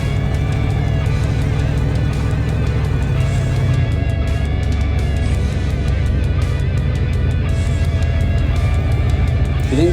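A GMC Caballero, brought back to life after sitting for over 20 years, drives along with its engine droning loudly and steadily close by, the note holding a rough, continuous roar throughout.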